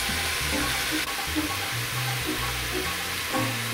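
Stir-fry vegetables sizzle steadily in a hot pan as they caramelize on the bottom, a continuous close frying hiss with faint low clinks and shuffles underneath and no talking.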